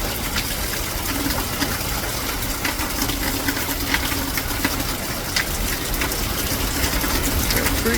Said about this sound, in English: That creek going pretty good.